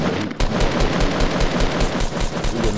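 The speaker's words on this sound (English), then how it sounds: "I'm shooting at him." Automatic gunfire in the Fortnite game, a loud continuous rapid rattle of shots with brief pulses, dense and close for the whole stretch.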